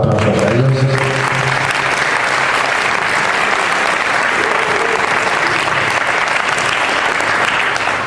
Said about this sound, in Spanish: Por favor, aplausos a ellos.